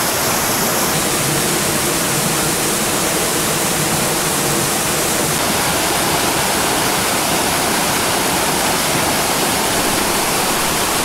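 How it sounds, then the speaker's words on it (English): A mountain stream pours over a waterfall, a loud, constant rushing roar of water that fills the whole stretch without a break. "Right in that waterfall."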